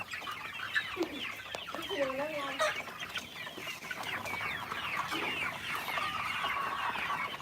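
A group of chickens clucks and chatters busily without a break while competing for feed, several birds calling over each other nearby.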